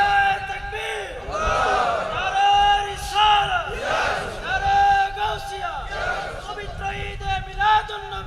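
A large crowd at a Bengali religious waz gathering chants a slogan in loud, rhythmic, repeated calls and responses, many voices rising and falling together.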